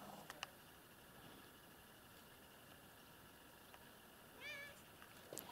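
Short, faint meows from a grey cat near a village church, with a single rising call near the end over a quiet outdoor background.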